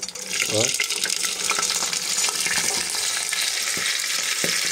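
Nepali pulao with green peas cooking in a pan, a loud, close, steady frying hiss with scraping and stirring noises throughout.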